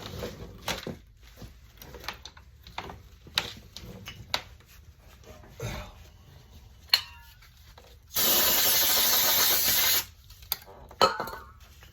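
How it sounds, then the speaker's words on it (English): Brake pads are fitted into the caliper of a 2008 Mazda 3 during a full brake job, with scattered scrapes, rubs and metallic clicks and one sustained harsh rasping burst lasting about two seconds. "Let's see if we can put some brake pads in here"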